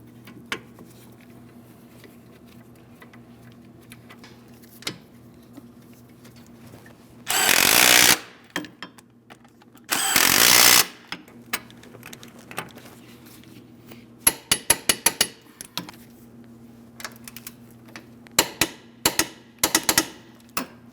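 Rear brake caliper mounting bolts on a 2005-2010 Chrysler 300 5.7L V8 are tightened, with two loud whirring bursts of a power tool followed by clusters of sharp metallic clicks and taps in a quiet garage.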